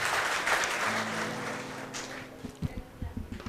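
At a felicitation event for a former corporator, an audience claps in a brief burst of applause that fades after about two seconds, followed by scattered thumps and shuffling.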